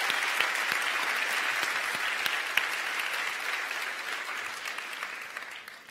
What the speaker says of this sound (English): Everyone, a round of applause for Kate.